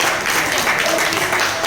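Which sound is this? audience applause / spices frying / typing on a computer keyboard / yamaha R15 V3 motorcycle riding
audience applause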